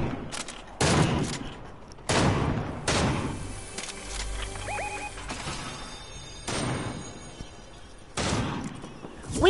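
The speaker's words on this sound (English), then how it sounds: "I am spraying this DMR." A DMR rifle in a video game fires a series of separate sharp, loud shots at uneven intervals, a fast spray that rings out against a busy background.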